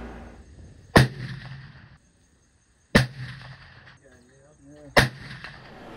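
Three loud, sharp rifle shots about two seconds apart, fired with a Pyrodex two-pellet 100-grain black powder substitute charge behind Nosler 300-grain Spitzer bullets, each blast ringing out briefly before a quiet gap.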